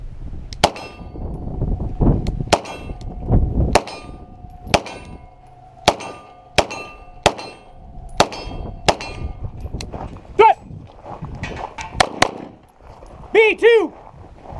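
Beretta 92G Brigadier Tactical pistol fired at longer-range steel targets outdoors, about a dozen sharp shots spaced a second or so apart, each followed by a distant metallic ring from the plate, with faint talking between some shots.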